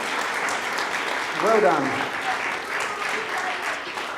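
Church audience applause for the children fills the space with steady, dense clapping throughout, while a voice briefly speaks over it.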